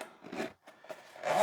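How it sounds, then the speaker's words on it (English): A zipper runs on a fabric storage bag for a Wahl Manscaper lithium groin and body trimmer, giving several short, close, raspy zipping strokes with brief pauses between them. "Plenty of storage in there, and it has a zipper"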